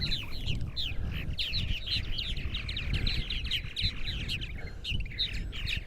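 Purple martins calling on Eastern Long Island, a busy flock chirping and gurgling in rapid overlapping bursts, close and fairly loud over a low rumbling background.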